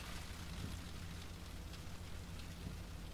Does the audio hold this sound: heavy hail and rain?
yes